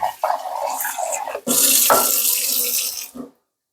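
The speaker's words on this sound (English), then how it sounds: "run it under the water." Tap water runs into a container of coconut pieces being washed, a close, steady gush with splashing that starts and stops a few times before cutting off near the end.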